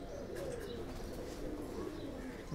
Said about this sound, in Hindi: माशाल्लाह से बहुत ही हसीन कबूतर है